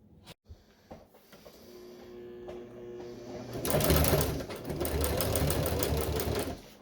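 A sewing machine stitches vinyl for a 1966 GMC seat bottom rebuild: a few soft clicks and a low hum first, then the motor speeds up into a loud, steady rapid needle chatter.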